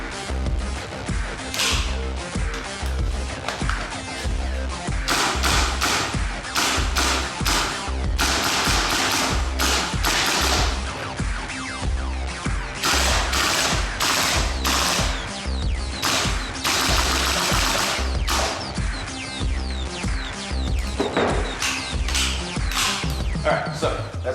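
KWA LM4 gas blowback airsoft rifle (M4-A1 style) firing through a full magazine, sharp mechanical clacking shots in rapid repeated strings, close and loud.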